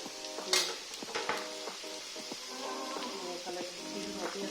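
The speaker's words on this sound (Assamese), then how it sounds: "চাটনিৰ কাৰণে তিল ভাজি আছোঁ" Washed sesame seeds for chutney fry in a pan, with a soft sizzle under scattered scrapes and clinks of a utensil stirring against the metal, heard fairly close with faint background tones.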